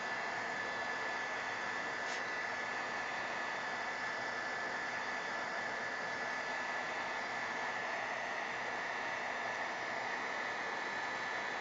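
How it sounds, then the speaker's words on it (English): A heat gun blows a steady, faint airy hiss while drying color on an egg, a constant even rush with no variation and no voices. "See how that heat gun moves it around?"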